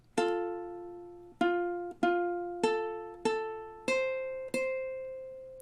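Measure 8 of a song played slowly on ukulele, seven evenly spaced strummed chords, each ringing and decaying before the next, close and clean with no talking.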